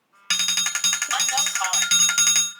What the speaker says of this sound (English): I forgot to silence my phone.